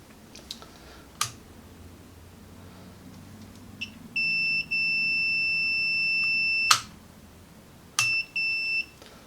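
Multimeter continuity tester on the wires of a Chinese ATV kill switch gives steady high-pitched beeps, one long tone lasting a couple of seconds and a shorter broken pair later, amid light handling clicks, no speech.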